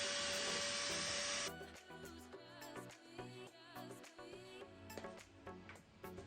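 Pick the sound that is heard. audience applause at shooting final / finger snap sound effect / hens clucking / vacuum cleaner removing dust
vacuum cleaner removing dust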